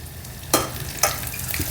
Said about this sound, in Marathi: आपण त्याच्यामध्ये दीड टेबलस्पून बटर घालूया